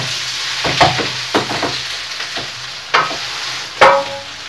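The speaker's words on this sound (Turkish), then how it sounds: "fasulyenin hem altı hem üstü aynen börek kızartır gibi biz bunu kızartıyoruz" Green beans frying in a pan, a soft continuous sizzle broken by several distinct stirring scrapes and clatters, close and alone with no talk.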